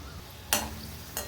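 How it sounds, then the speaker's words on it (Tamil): Vada pieces shallow fry in a pan with a steady, close sizzle, broken by two brief bursts of stirring scrapes, no talking. "டீப் ஃப்ரை பண்ணாமல் இந்த மாதிரி ஷாலோ ஃப்ரை பண்ணி எடுத்துக்கலாங்க"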